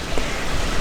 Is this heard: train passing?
no